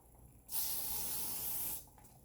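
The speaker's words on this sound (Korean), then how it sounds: "스프레이 뿌렸으니까" Hair spray hisses in one steady burst of a little over a second from an aerosol can while hair is being styled and pinned, close and fairly loud against a quiet room.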